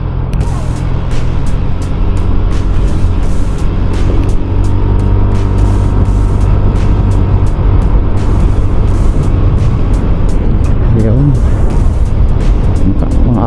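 Yamaha Aerox SP V3 scooter on a road, its engine droning steadily and loudly throughout with low rumbling drone and wind buffeting, constant level with no pauses.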